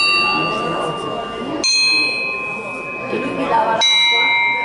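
Church bells rung by bell ringers at a national bell ringers' gathering in Imola, a short concert of layered ringing tones struck in overlapping sequence, loud and sustained with long resonant decays.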